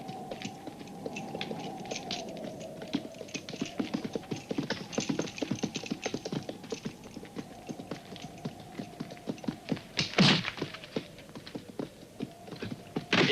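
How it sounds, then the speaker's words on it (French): Horses' hooves clip-clop steadily for the length of a western scene, a dense run of close, even knocks with a sharper louder burst near the end. "Les chevaux."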